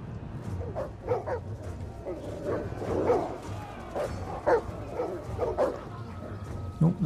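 War dogs in the Total War: Attila battle game bark and yelp in repeated short bursts amid a crowded battlefield din, with a low rumble underneath and a louder yip near the end.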